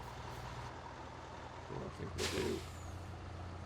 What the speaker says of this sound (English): we just need to actually move that truck a bit